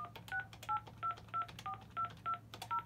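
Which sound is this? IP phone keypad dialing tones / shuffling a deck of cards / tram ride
IP phone keypad dialing tones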